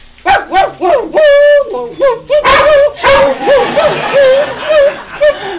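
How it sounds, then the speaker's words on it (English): A dog barks and yips repeatedly at close range, with whimpering, high-pitched cries between the barks. "They just hear barking."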